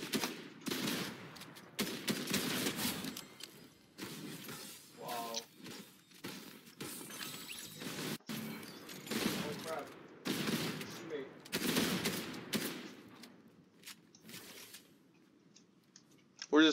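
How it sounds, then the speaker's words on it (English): Gunfire in a Fortnite match, bursts of shots scattered among excited voices talking, loud clusters rising and falling over the stretch. "I'm getting shot at, dude."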